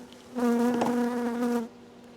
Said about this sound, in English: sounds like it's one bee making some noise.